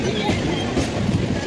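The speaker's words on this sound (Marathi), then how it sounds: "इथे ॲक्च्युअलमध्ये आपल्याला एक ट्रेन आहे" A train at Roha railway station in the rain, a steady loud rumble of wheels and carriage noise with faint rhythmic clatter, continuous and close.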